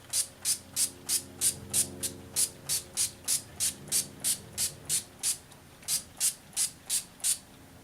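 About twenty short, evenly spaced bursts of makeup setting spray hiss from a pump bottle nearby, each a quick puff, with a faint low hum in the background.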